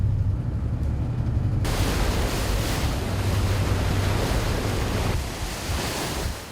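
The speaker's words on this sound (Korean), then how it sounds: "높은 파도와 싸우며 다음 섬으로 향하는 병원선" Heavy sea surf and waves batter a hospital ship under way between islands, with steady loud wind-blown roar throughout and a low hull rumble; the wash drops slightly near the end.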